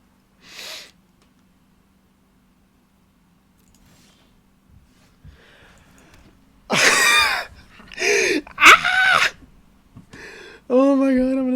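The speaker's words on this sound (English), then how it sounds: "I already did just scream" A man lets out a short, strained scream of frustration while playing a Magic: The Gathering draft with an Orzhov control deck. Several loud, harsh vocal bursts come close together after a long stretch of near silence.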